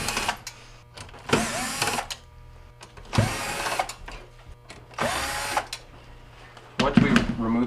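A power screwdriver whirs in short bursts as it backs Phillips screws out of the heater element on a GE refrigerator, with four close separate runs and a person talking between them.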